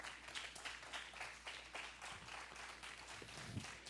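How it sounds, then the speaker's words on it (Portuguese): A church congregation at a worship service claps steadily and softly throughout, a dense, even patter heard from a distance at low volume with no voices over it. "Vamos aplaudir Jesus por isso."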